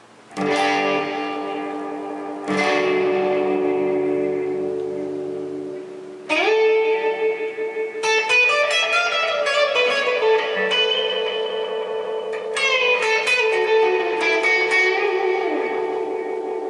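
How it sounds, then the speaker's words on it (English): A Boss RE-20 Space Echo tape echo runs with all three tape heads engaged, turning a clean electric guitar's chords and single notes into dense, overlapping repeats with a long swirling tail, loud and alone with no talking. "I'm going to turn the Space Echo to all 3 tape heads together."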